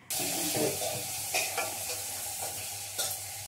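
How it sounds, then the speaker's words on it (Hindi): Tomatoes with salt frying in a pan until they soften, a steady close sizzle with a few stirring scrapes, no talk. "नमक और टमाटर को गलने तक फ्राई कर लेंगे"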